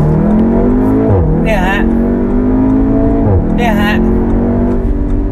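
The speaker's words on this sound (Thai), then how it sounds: "เวลาเขาเปลี่ยนเกียร์เนี่ยมันจะมีเสียงพรึด" An Audi TTS of nearly 300 hp accelerates hard in sport mode toward about 7,000 rpm. A loud, rising engine note drops sharply twice at gear changes, each with a brief burble, while someone says a short word.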